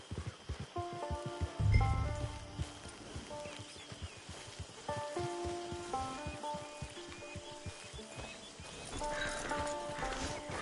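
Horse hooves clip-clop at a steady walking rhythm in the video game Red Dead Redemption 2 Online, under layered music tones, with a brief heavier thump early on.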